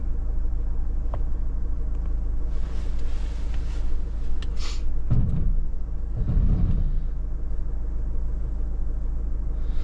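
A 4x4 drives slowly along a wet, rough green lane in Scotland, with a steady low engine rumble throughout and a few louder bumps and splashes from the tyres midway.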